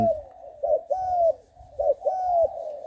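A six-month-old trained spotted dove gives repeated clear, mellow coos in two close rhythmic phrases separated by a short pause, loud and near, with no talk.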